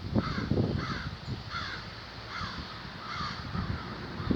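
Several crows caw repeatedly at a steady pace, harsh rasping calls at moderate distance over a low outdoor rumble, with no one talking.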